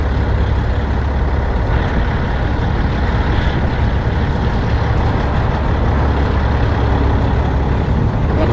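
A semi truck's engine rumbles loud and close, steady and unbroken, as the rig backs up under a trailer at a farm supply lot.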